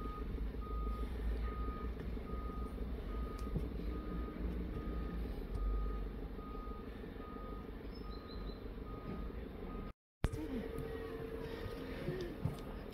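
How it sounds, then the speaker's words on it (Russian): Heavy machinery works at a distance near a Siberian arboretum in Listvyanka by Lake Baikal, a truck's reversing beeper repeating steadily and faintly over a low engine rumble and outdoor ambience, with a brief dropout near the end. "Если бы не звуки работающей крупногабаритной техники, казалось бы, что мы находимся где-то в сибирской тайге."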